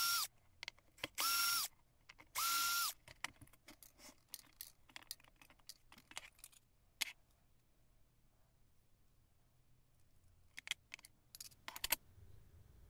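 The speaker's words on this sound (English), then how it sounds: "Remove all the screws so you can take off the cover to get to the main board." A power screwdriver whirs in three short bursts while removing screws from the cover of an airbag ECU module, followed by quiet clicks and small handling taps on a bench.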